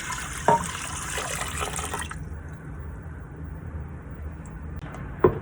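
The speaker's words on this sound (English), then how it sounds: "to the cup of dry rice, I'm gonna go ahead and add 2 cups of water." Tap water pours into a cup of dry rice in a rice cooker, giving a steady close splashing rush that stops suddenly partway through, followed by a few faint drips.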